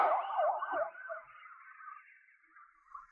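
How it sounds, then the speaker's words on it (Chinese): A police siren wails in quick up-and-down sweeps at first, then trails into a fainter, steadier tone as it fades away. "突然响起的警笛声"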